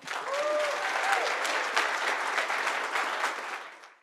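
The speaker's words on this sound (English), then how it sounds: "more clapping" Conference audience at a Python web developer event claps steadily, a dense sustained round of applause that fades out at the end, with a faint voice briefly audible early on.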